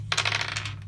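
Coins clink and jingle as they change hands during a Machi Koro board game at home, a quick close flurry of metallic taps lasting about a second over a steady low hum, with no talk.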